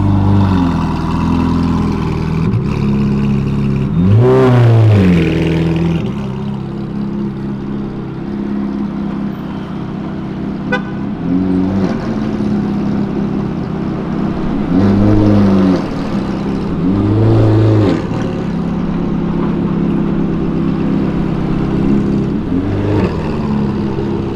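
A Ferrari accelerates through São Paulo streets, its engine rumbling near and loud with several sharp revving surges, one early and two close together later, over steady street traffic noise.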